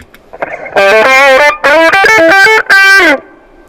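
An electric guitar through an overdrive pedal with a gritty tone plays a few sustained, bending chords and notes, loud and close, separated by short breaks.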